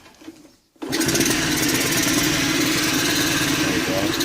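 A 1972 Honda Dax ST70 monkey bike under restoration, running on auxiliary fuel, is silent for a moment, then catches abruptly and settles into a loud, steady, buzzing idle close by.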